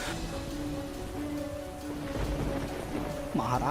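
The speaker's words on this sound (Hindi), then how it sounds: "ये बारिश तो रुकने का नाम ही नहीं ले रहा है" Heavy cartoon rainstorm with a dense, steady hiss of falling rain and low rumbles of thunder beneath it, continuing evenly throughout; a faint voice-like tone rises briefly near the end.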